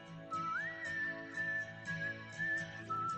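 A clear whistled melody rides over a K-pop track, sliding up and holding steady tones in repeated short phrases across the backing music.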